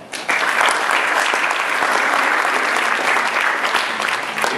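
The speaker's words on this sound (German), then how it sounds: "Applaus zum Haus für den Fabian Maubach." Audience applause greets the film team at a Berlinale introduction in a hallway, a dense, steady wash of many clapping hands that starts abruptly and holds loud and close throughout.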